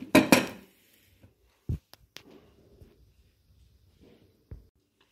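Chopped onions tipped into a big bowl for onion paratha stuffing: a brief clatter and rustle at the start, then a few scattered soft knocks and clinks, fairly close, with no talk.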